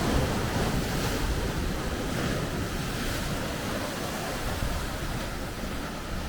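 Ocean waves crash and churn steadily against a rocky California shore, a loud, continuous roar of surf with wind buffeting the microphone.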